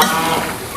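A brief, close scrape and sizzle as food is stirred in a hot pan after a splash of water goes in, with no talking.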